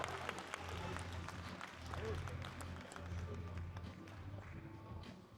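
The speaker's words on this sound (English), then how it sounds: "can we have a round of applause for your performance?" Audience at a PCA Naturals bodybuilding show clapping and cheering continuously, with scattered shouts, heard fairly faintly in a large hall.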